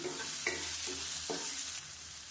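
Guava chutney ingredients, with salt and tamarind added, are sautéed in a pan. Soft scraping stirring strokes sound over a constant close sizzle, which drops slightly near the end, with no talking.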